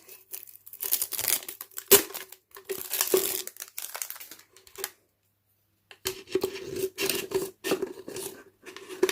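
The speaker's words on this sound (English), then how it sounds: "cut out strips from this plastic bottle" Scissors cut strips from a plastic bottle up close, giving irregular crinkly snips and crackles in short bursts with a brief pause between runs.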